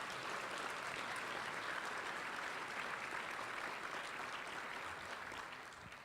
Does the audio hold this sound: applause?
yes